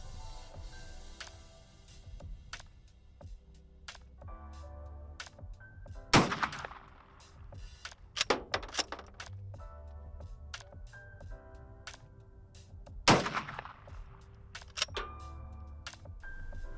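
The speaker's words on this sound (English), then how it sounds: "I'm shooting at a distance of roughly 100 yards here." Steyr M95 carbine firing 8x50 Mannlicher handloads at about 100 yards outdoors: two sharp, loud shots several seconds apart, with bolt clacks and handling clicks scattered between them.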